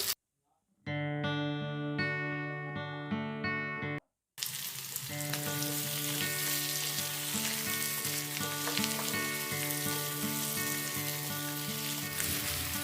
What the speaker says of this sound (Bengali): দেখো সেদ্ধ করে রাখা আলুগুলো আমি ভাজতে শুরু করে দিয়েছি।